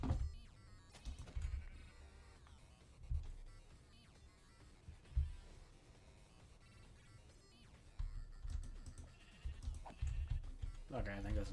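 Sheep in the Minecraft video game bleat repeatedly in short calls over continuous game music and background sound, with a voice talking throughout.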